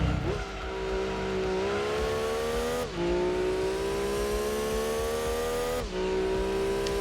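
A Clio Trophy race car in Gran Turismo 2 screams at high revs, its engine pitch climbing steadily through gears with two quick drops at shifts, loud and continuous with no talk.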